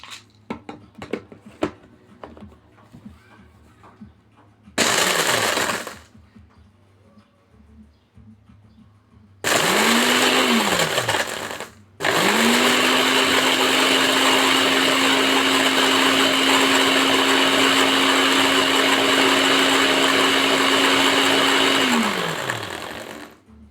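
A kitchen blender grinding dried chilies into powder runs in three bursts: a short pulse, a second brief run, then a long steady high whir that winds down at the end, loud and close with no talk.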